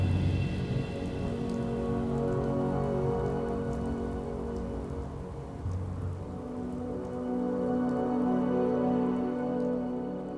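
A heavy rainstorm in Fallout 4, with steady dense rain pattering on surfaces and a low rumbling wash underneath, constant and enveloping throughout, no voices.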